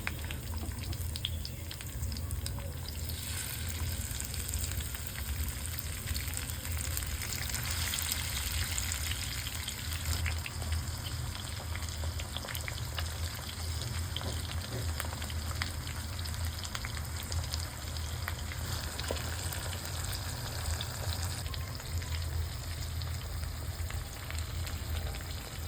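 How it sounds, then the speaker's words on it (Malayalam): Marinated pomfret fries in a pan over a bed of curry leaf stems, giving a steady, continuous sizzle and crackle throughout with no talking. "ഇതിൻ്റെ മുകളിൽ നമുക്ക് നമ്മുടെ മാരിനേറ്റ് ചെയ്ത ഫിഷ് ഫ്രൈ ചെയ്യാനായിട്ട് വെച്ച് കൊടുക്കാം."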